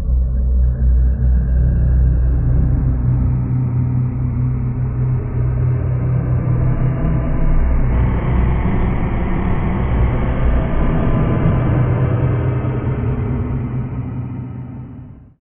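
A train passes close by with a loud, continuous low rumble and rattling roar. It stays heavy for about fifteen seconds before fading at the end.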